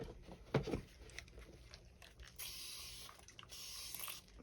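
Alcohol sprayed across freshly poured epoxy resin to pop bubbles: a soft clunk, then two faint hissing spray bursts close by in a quiet room.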